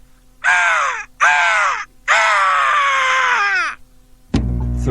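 A voice imitates angry diving sounds for Laserbeak, a Transformers robot bird: three loud, raspy, crow-like screeches, the third longest and falling in pitch, then a burst of clatter at the end.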